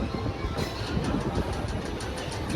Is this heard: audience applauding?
no